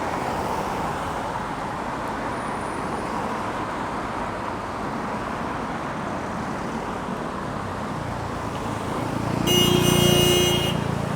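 Steady roar of road traffic in downtown Jongno, Seoul, then near the end a car horn honks briefly, standing out over the passing vehicles.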